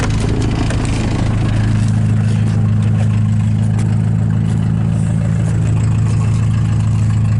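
A cold diesel engine idles at close range, a loud, steady low throb with a rough, rattly character that holds constant throughout without any talking.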